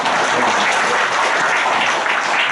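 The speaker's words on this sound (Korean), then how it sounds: "큰 박수 한번 더 보내주십시오." Steady, dense applause from an audience at a Korean clan association gathering, loud and continuous with no speech over it.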